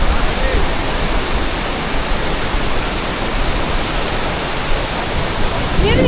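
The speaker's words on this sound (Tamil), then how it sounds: "அப்படியே நீர்வீழ்ச்சி மேலே சாரல் அடிக்குது." Tumpak Sewu waterfall in Java, Indonesia, roaring as a loud, steady wash of falling water with spray, filling the whole clip without a break.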